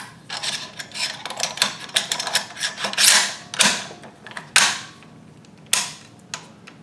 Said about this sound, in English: install your charging handle and your bolt carrier group